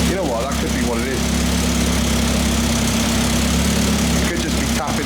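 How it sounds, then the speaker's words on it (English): A fully built Mitsubishi Evo X with a PT 6466 turbo idles loudly and close by. Its exhaust downpipe rests against the heat shield and taps it, adding a rattle over the steady low engine drone. "Definitely tapping the heat shield."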